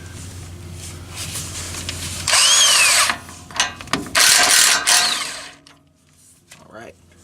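An impact gun buzzes in two short, loud bursts as it breaks loose the lower brake caliper bolt on a Toyota 4Runner, with a person talking briefly before and after.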